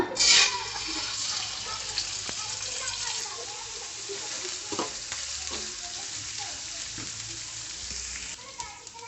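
Onion paste and spices sizzle steadily in hot oil in a pan, a close, continuous frying hiss broken by occasional stirring scrapes and knocks.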